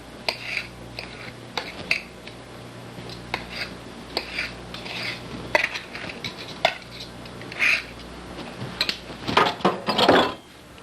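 A vegetable dish being broken up and mixed with two knives or a fork and knife, irregular scrapes and light metal clinks against a dish, building to busier clatter near the end, close with no talk.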